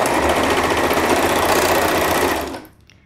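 Sewing machine stitching an elastic band closed on a pair of teen pajamas, a fast steady mechanical whir running close and loud before slowing to a stop near the end.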